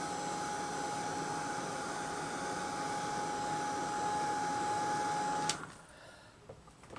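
A hair dryer blows steadily on handmade flowered hairclips, a loud continuous whooshing hum with a faint whine that runs for several seconds before cutting off abruptly, leaving quiet room noise.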